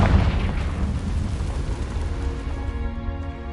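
A Confringo spell in a video game sets off a loud, close explosion: a heavy booming burst that rumbles and fades over a few seconds, with a ringing tonal tail at the end and no speech.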